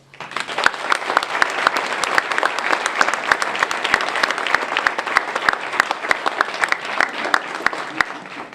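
A theatre audience applauds at the end of a stage play by Francis Joffo, a thick, continuous wash of many hands clapping at an even, lively pace for several seconds.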